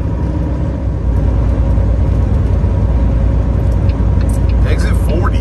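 An over-the-road semi truck's engine drones loud and steady from inside the cab while driving downhill, a continuous low rumble with a voice talking over it.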